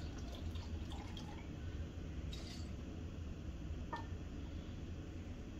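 White distilled vinegar pours for a chicken marinade as a faint, steady trickle of liquid with a few small drips, quiet and close.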